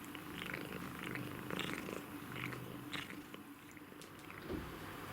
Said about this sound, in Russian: зачем ты мурчишь, когда умываешься?